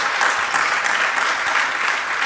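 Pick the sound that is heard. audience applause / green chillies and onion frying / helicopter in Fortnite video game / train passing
audience applause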